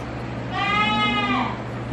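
A stubborn mother goat at a milk stand gives one loud, drawn-out bleat lasting about a second, close by, with steady low background hum and no talk.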